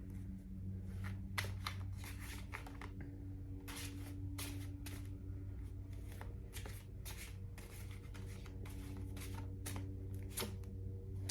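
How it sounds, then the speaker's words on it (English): Tarot cards being shuffled and pulled from the deck, a run of quick papery riffles and flicks in short bursts over a constant low hum, close and quiet with no talking. "So I'm going to pull a couple more cards here."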